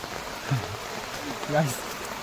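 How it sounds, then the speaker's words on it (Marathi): Rain falling outdoors beside a river in the Konkan countryside makes a steady, even hiss, while someone talks over it. "आपण नदीवर आलो आणि पाऊस पण नेमका आला"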